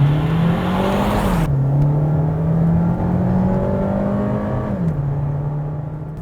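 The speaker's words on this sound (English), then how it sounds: "the sound coming out from the exhaust in the engine is pure music, but it is a throaty roar that you get to hear" Volkswagen T-Roc engine and exhaust roaring under hard acceleration, a loud throaty note rising through the revs with short dips at gear changes, heard from close by.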